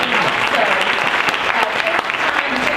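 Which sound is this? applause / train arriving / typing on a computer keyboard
applause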